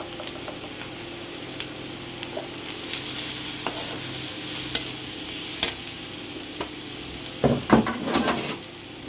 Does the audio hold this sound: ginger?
yes